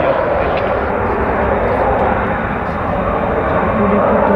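A military jet performs a touch-and-go landing at Iwakuni air base during a carrier air wing flyover rehearsal, its engine roar a loud, steady broadband rumble filling the clip.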